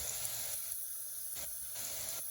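Minced chicken sautéing in a pan with a pinch of salt, giving a steady soft sizzle and hiss throughout, fairly faint, with a few brief louder bursts of spitting.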